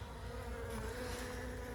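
Honey bees in a wooden hive box with only a small colony inside, giving a steady, continuous low buzz that stays even and fairly quiet throughout, with no talking.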